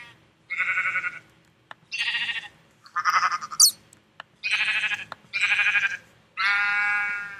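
Sheep in Minecraft bleat six times at an even pace beside a desert house, each call a short wavering bleat, close and clear, with near silence between them.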